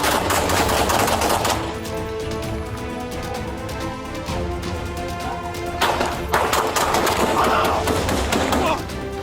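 Rapid bursts of gunfire crack out during a police bodycam shootout as deputies exchange shots with an armed suspect, several loud close shots clustered together over a steady noisy background.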